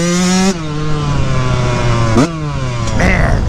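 Yamaha YZ144 two-stroke dirt bike engine revving close by, sharp rising blips that drop back to a buzzy idle, three or four throttle bursts in quick succession.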